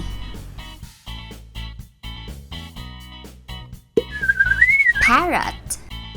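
A Playmobil toy parrot from a Noah's Ark safari playset plays a loud looping electronic jingle, then a bright warbling whistle rises over it near the end, close and clear.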